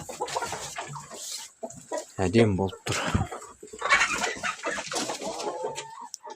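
Domestic chickens cluck and squawk close by inside a warm henhouse as they eat compound feed and wheat, short bursts rising over steady conversation.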